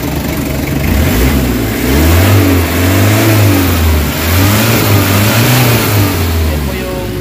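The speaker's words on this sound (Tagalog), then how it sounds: "Pero ngayon response ka ng ganyan, malakas na yung RPM nya." A Nissan Vanette engine, with its throttle delay and low-power fault now fixed, revs loudly up and down in several swelling waves from a steady idle, close by, with a voice talking under it.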